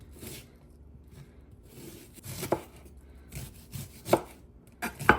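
A knife chops an onion in a fine crisscross pattern, giving sharp, close board taps in irregular bursts that grow louder toward the end, with no talking.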